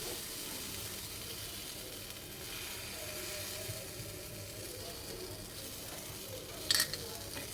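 Batter sizzles faintly and steadily in a hot pan brushed with a little oil. A soft crackling hiss continues throughout, with a sharp clink from the pan near the end.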